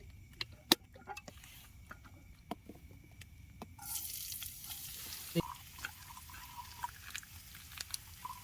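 Boiled Maggi noodles and pasta go into a pan at a winter campsite, scattered clicks and stirring taps giving way to a steady sizzle midway, faint and close without speech.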